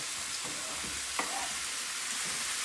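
Sliced courgettes and mushrooms sizzle softly in a pan, a steady low frying hiss broken by a few faint scrapes and knocks of stirring.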